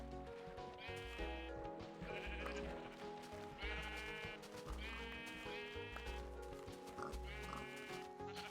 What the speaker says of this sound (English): Look at all these fucking sheep and pigs